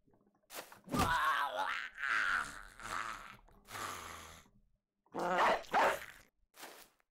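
A dog in the video game Battle Brothers gives a few loud, rough barks and growls in short bursts with brief pauses between them, close and alone without talk.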